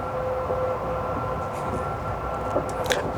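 Steady rumble of a Caledonian Sleeper train running at speed, a continuous low roar with a faint hum and occasional soft rattles and squeaks, heard from inside a carriage.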